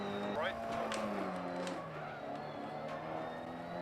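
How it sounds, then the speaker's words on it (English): Engine of a damaged Mini rally car in the DiRT Rally racing game, straining uphill on a Finnish stage: a steady droning motor with shifting pitch and brief rising tones, loud and continuous throughout. "My car feels very, very slow going up this hill. I think the engine is really starting to feel the effects of the damage now."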